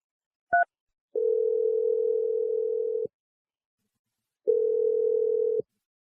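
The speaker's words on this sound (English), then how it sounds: "I'm going to dial her number and see what she has to say." Telephone line tones while calling a number: a short high beep, then two long steady ringing tones separated by silence, clear and alone with no voices.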